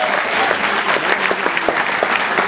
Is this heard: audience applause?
yes